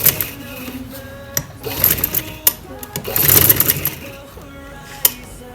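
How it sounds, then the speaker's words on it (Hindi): A sewing machine stitching trouser fabric in short, close bursts of mechanical whirring and clatter, stopping and starting, with someone speaking between and over the runs. "तो सबसे पहले मैं जो है इस डिज़ाइन को इसके साथ रखते हुए इसी तरह से सिलाई लगा लेती हूँ।"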